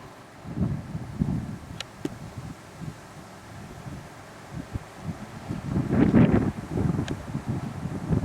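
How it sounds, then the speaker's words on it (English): Strong outdoor wind of about 20 mph buffeting the microphone, rough low rumbling gusts that swell and fade, loudest near the end, with no voices heard. "We have about a 20 mile an hour wind today"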